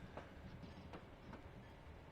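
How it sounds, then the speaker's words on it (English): Freight train of double-stacked container well cars rolling along in the Trainz 2019 railway simulator, a steady rumble with faint periodic wheel clicks, no talking. "These well cars here are double stacked with containers"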